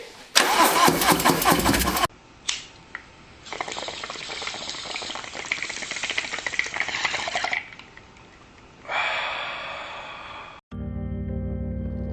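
A Harley-Davidson FXR motorcycle with a Milwaukee-Eight engine starts up on its first ride after tuning. Loud bursts of engine noise come and go in separate pulses between quieter gaps. No one speaks.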